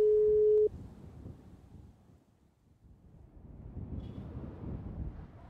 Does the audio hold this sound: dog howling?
no